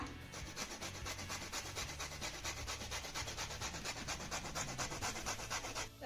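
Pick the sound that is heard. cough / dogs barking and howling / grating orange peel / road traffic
grating orange peel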